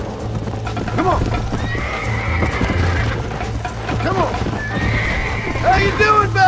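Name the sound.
horse galloping and neighing in Red Dead Redemption video game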